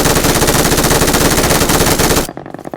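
Rapid automatic gunfire in a shooting video game, a dense, loud continuous burst that cuts off abruptly into near silence.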